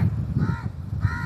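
Two harsh caws from a crow ring out close by, one after the other, over a low rumbling background noise.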